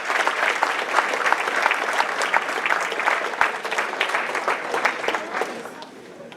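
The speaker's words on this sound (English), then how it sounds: "Let's give him another round of applause." Sustained loud clapping from a large banquet audience at an alumni dinner, dense and steady before tapering slightly at the end, with voices mixed into the crowd.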